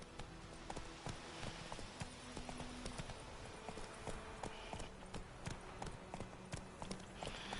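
Hooves of Roach, the horse in The Witcher 3: Wild Hunt, clip-clop in a steady trotting rhythm, close and fairly loud over continuous in-game ambience.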